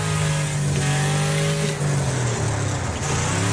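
A race car engine drones steadily in the Wreckfest video game, holding a loud continuous roar with slight pitch shifts as the car brakes hard into turns, with no talk over it.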